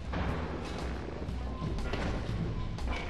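Repeated shots and thumping impacts hit a sewer maintenance bot boss in the PS2 game Robots, a busy, fairly quiet stream of bangs and clanks with a voice faintly underneath.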